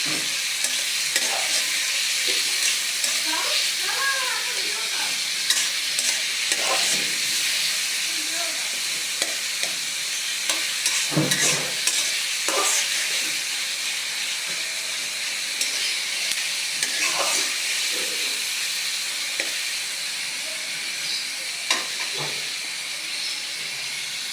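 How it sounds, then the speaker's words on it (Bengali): Green chillies and onion fry together in oil in a village kitchen, giving a continuous loud sizzle and hiss with occasional stirring scrapes and clatter. "কাঁচামরিচ পেঁয়াজ একসাথে ভাজা দিয়া দেবো"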